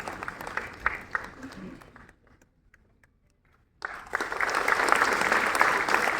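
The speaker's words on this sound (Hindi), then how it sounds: "जोरदार तालियां अपने हर्दिल अजीज LG के लिए।" Applause from a festival audience greeting the Lieutenant Governor of Jammu and Kashmir at the Chinar Book Festival at SKICC in Srinagar, rising into steady, loud clapping after a short lull, with some talk early on.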